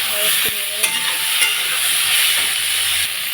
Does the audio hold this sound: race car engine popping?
no